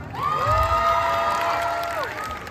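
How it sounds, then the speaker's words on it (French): Crowd cheering and shouting at a K-pop dance performance at a convention, loud sustained voices with rising whoops over scattered applause, filling the space throughout. "Applaudissez Isra."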